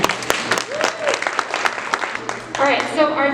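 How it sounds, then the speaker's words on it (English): Audience applause at a school awards ceremony, a burst of clapping from the crowd with talk mixed in throughout. "Round of applause for her."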